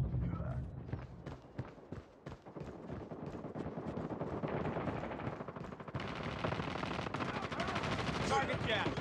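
Sustained rapid gunfire in Call of Duty Mobile, with dense automatic bursts running nearly throughout and voices calling out over the shooting.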